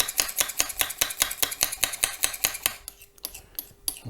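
Model paint and thinners stirred in a small container before spraying a model's body colour, a rapid regular clinking and scraping of the stirrer against the sides, about a dozen close strokes, then quieter scrapes.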